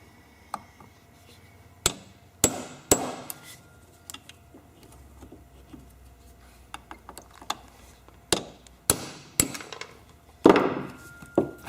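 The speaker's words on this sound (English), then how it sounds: "We want to support this when we're beating on it." A hammer pounds on a pin to drive it out of a Briggs starter clamped in a vise. The sharp metallic blows come as a scattered series of loud strikes with quiet pauses and small handling clanks between them.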